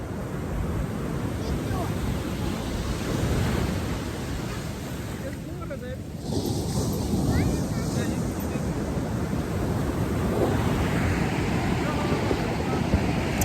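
Ocean waves wash up Sunset Beach in Hawaii in a steady, loud, broadband roar that continues unbroken, with wind buffeting the microphone and faint voices now and then.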